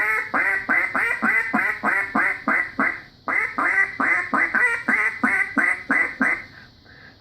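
A handheld duck call imitates a hen mallard greeting, a loud close series of rapid quacks in two descending runs, the second trailing off into softer notes.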